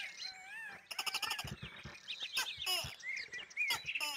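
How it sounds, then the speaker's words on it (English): Several creatures in the Minecraft Orespawn mod give varied chirps and warbling whistles. Quick trills and clicky bursts overlap close by in a busy, layered chorus. "here's a bird. Many different kinds of birds."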